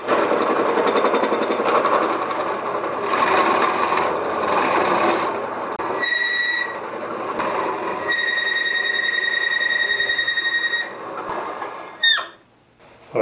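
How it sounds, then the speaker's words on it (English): A drill with Forstner bits, hole saws and flat drills bores holes in wood for a squirrel-proof bird feeder, giving loud rasping grinds in several bursts, then whining tones, rattles and a sharp clatter near the end. "So I've bored all the holes down"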